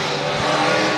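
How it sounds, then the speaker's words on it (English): Wissota Super Stock race cars rumble loudly and continuously as they roll out onto a speedway track for a heat race. "Last heat race rolling out on the track right now, Wissota Super Stocks heat race number 2"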